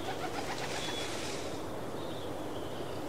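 A bird coos in the video game Sprout, soft repeated calls heard over a steady, dense background of ambient game sound.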